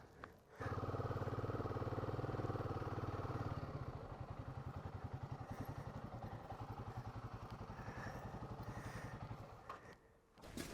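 A motorcycle engine loud and close on a Dolomites mountain pass in Italy, a steady roar that settles into a rhythmic pulsing idle as the bike is ridden around, then cuts off near the end.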